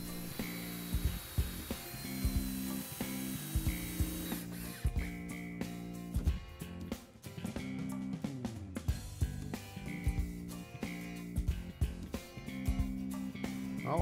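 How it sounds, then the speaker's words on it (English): Boards are clamped and screwed onto a wooden potting table in a shop, with ratcheting clamp clicks, tool whirs and scattered knocks of wood in an ongoing close workshop clatter. "Now, just clamp and screw the remaining boards into place."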